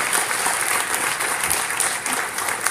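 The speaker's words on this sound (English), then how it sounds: "Give him a round of applause." At a school concert, an audience claps for a new guitar player, a sustained, dense wash of applause holding strong and close throughout.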